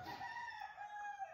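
A rooster crows once in the distance, a faint drawn-out call with a falling tail, heard alone and lasting barely over a second.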